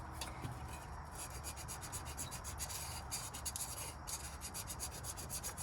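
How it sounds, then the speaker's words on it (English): Sandpaper rubbing over hardened JB Weld epoxy on the cylinder of a 1958 Plymouth engine, a steady close scratchy rasp with repeated back-and-forth strokes and no talk. "I've got some sandpaper on this can."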